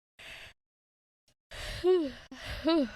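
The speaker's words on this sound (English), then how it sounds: "That yawn was right on fucking time." A person yawns aloud in two long, voiced, breathy exhalations whose pitch rises and falls, preceded by a short breath, close and quiet with brief silence between.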